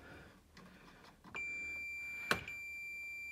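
A multimeter continuity test on a boiler earth wire produces a single steady electronic beep of about two seconds after a few soft handling clicks, with a sharp tap partway through.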